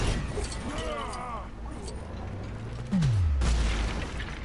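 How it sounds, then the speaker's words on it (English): A blast from the Iron Man cannon in a Lego Marvel video game fires as a deep, swelling boom near the end of the clip, following a rumbling game score with a falling tone and busy background effects. "The Iron Man cannon."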